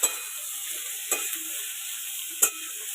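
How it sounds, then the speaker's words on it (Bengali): Eggplant slices frying over onions in hot oil on a clay stove, a steady close sizzle with two sharp stirring clinks partway through, no talk. "বেগুনগুলো দিয়ে দেবো পেঁয়াজ ভাজার উপরে।"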